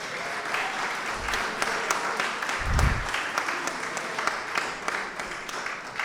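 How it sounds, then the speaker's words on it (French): Applause for an organizer at the closing session of a French folklore assembly: a steady wash of many hands clapping, moderate and sustained, with a couple of low thumps partway through. "je vous demande quand même d'applaudir Dominique qui a galéré toute la journée"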